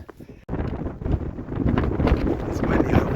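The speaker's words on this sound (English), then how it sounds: "It's windy" Wind buffets a handheld camera microphone on the Long Trail, a sudden loud rumbling gust that starts abruptly and stays strong and roaring to the end.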